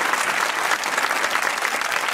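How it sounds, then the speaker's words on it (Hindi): Dense, steady applause from a TV show studio audience, loud and sustained without a break across the whole stretch, with a faint murmur of the crowd beneath. "अल्ताफ भाई के लिए भी बड़ी तालियां"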